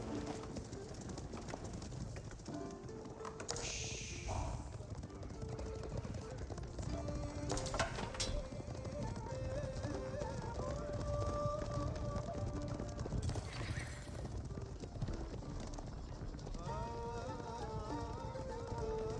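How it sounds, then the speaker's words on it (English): Horses moving around in the Age of Empires 4 video game, rhythmic hoof clip-clops beneath a layered in-game soundscape of music and ambient effects, with brief whooshes and bursts cutting through. "Horsemen moving around."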